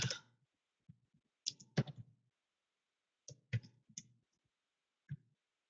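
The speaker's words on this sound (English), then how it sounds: "I type slow." Slow, hesitant typing on a computer keyboard: small clusters of crisp clicks separated by quiet pauses, close and faint, with no one speaking.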